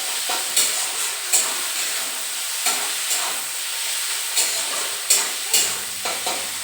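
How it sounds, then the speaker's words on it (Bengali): Chicken fries in a pan for chow mein, a steady sizzle and hiss with periodic scraping stirs of a utensil at irregular intervals, close and clear with no talking. "চিকেনটা খানিকটা ভেজে নেবো।"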